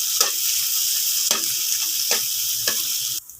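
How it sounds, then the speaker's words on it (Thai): Rice is stir-fried in a sizzling pan, a steady bright hiss punctuated by four or five sharp scraping strokes of the spatula at roughly even intervals, ending with an abrupt drop in the sizzle. "ผัดจนข้าวแห้งนะคะ"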